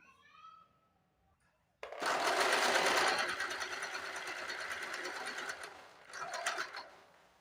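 After a brief quiet moment, a sewing machine runs a straight line of stitching along a folded blouse strip, whirring loudly and continuously at close range for several seconds.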